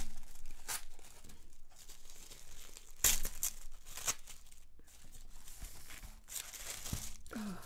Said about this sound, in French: On continue de déballer, les amis